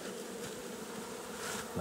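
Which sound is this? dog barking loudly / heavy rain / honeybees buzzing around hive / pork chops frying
honeybees buzzing around hive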